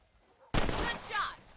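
A single loud, close gunshot fired at rabbits in the Red Dead Redemption video game cracks out and trails into a brief reverberating tail, with a voice speaking in the game afterward.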